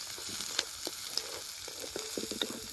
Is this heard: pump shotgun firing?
no